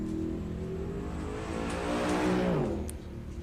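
A drag racing car at a dragway accelerates hard down the strip, its engine rising in a loud rev that swells and then sweeps downward as it passes, with faint tire noise.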